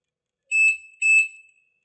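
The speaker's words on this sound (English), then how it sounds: "Monitor will beep twice and the light will turn off." Two short, loud electronic beeps, evenly spaced about half a second apart, from a Smart Caregiver TL-2100G fall prevention monitor, sharp and piercing, with silence before and after.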